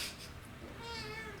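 A house cat lets out a single drawn-out meow, fairly faint and nearby, with a rising, wavering tone and no talking over it.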